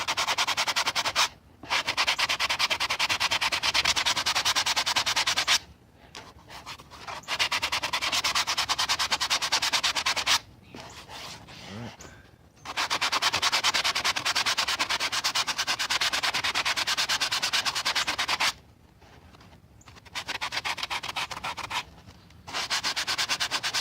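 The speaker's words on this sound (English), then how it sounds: "The way I'm going to straighten that out is just with a little sanding block here." A small hand-held sanding block is worked back and forth over a shield under construction, with no power tools. Steady, close rasping runs in long bursts broken by brief pauses, with no talking.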